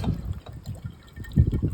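Water poured into a car battery on a Suzuki Samurai, a short run of close, low gurgling splashes that swell again toward the end.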